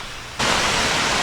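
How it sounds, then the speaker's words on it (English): Water rushes steadily beside old dam ruins on a wooded trail at Valley Forge National Historical Park, a broad, loud, hissing flow that swells in abruptly and then holds constant, close by, with no talk. "I thought I heard water down here. Sure enough, I did."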